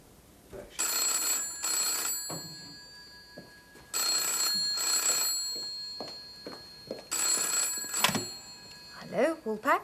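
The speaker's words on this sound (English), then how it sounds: "Someone on the phone for Jack Sugden." An old-style bell telephone rings in a pub, giving three long double rings with short pauses between them. Voices are heard faintly between the rings.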